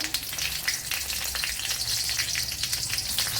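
Dried red chilies dropped into hot coconut oil with mustard seeds, giving a dense, continuous crackling sizzle close up, loud and even across the short stretch.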